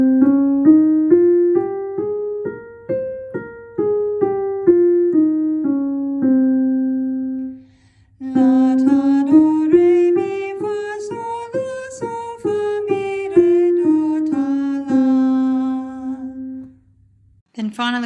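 A Phrygian mode scale rises and falls note by note, played twice in a row: once in a softer tone and once in a brighter, fuller one, with clear, even steps and a brief gap between the passes.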